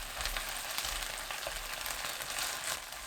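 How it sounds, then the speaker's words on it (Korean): Seaweed stir-fries slowly in a tablespoon of olive oil in a pan over medium-low heat, giving a steady, soft, close crackling sizzle with faint scattered pops throughout. "달구지 않은 팬에 올리브유 1큰술, 미역 넣고 중약불로 천천히 볶아주세요."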